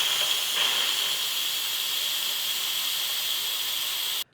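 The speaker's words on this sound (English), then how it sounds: "trying to get rid of some of this steam" Steam hisses steadily out of an Instant Pot pressure release valve while split pea soup cooks, a loud, unbroken close-up rush that holds for several seconds and then cuts off abruptly.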